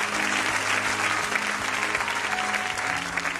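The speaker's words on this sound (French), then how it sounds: "on acclame le Seigneur" A church congregation claps continuously through a worship service, a dense, even wash of applause that holds steady from start to finish.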